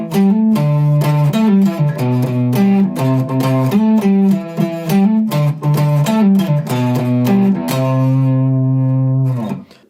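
Electric guitar in standard tuning plays the intro riff of a song, a loud, clean run of picked and hammered notes ending on a held, ringing chord, with no voices.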